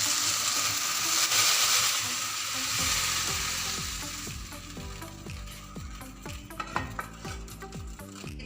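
Okra (bhindi) being lifted out of hot frying oil, with a loud, steady sizzle that fades into lighter crackling and occasional utensil clinks against the pan, with no talking.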